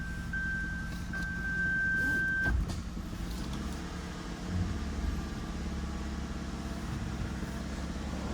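A single steady electronic tone rings from a 2007 Lexus IS250's reverse camera system for a couple of seconds over a low, quiet engine hum inside the car.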